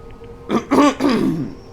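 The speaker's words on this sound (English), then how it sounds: "had to clear my throat" Someone clears their throat nearby in three quick, rough bursts, close and fairly loud.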